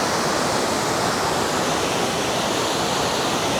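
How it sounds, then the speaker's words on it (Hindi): Glacier meltwater rushes down a mountain stream near Mahodand Lake in the Kalam valley, a constant loud hiss of churning water, close and unbroken throughout. "ये पूरा ऊपर से आ रहा है ग्लेशियर का पानी।"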